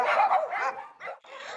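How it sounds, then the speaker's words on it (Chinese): Dogs barking at a stray dog shelter housing more than two hundred dogs, several loud, close barks and yips overlapping in quick bursts with a short pause near the end. "这个地方有200多条狗"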